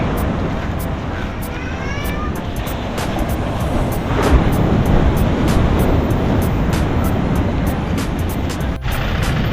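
Rough, stormy sea surf breaking on a rainy Sri Lankan beach along the coast near Tangalle and Mirissa, a steady broadband roar with wind, rising slightly midway, with faint voices and a brief sharp noise near the end.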